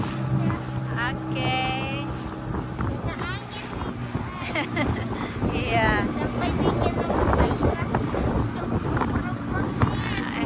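Motorboat engine drone from a small boat on the sea, with steady wind rumble across the microphone, while several people chat loudly nearby.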